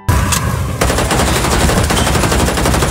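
Rapid automatic gunfire in a film shootout, a dense loud burst of shots that sounds close and continues without a break.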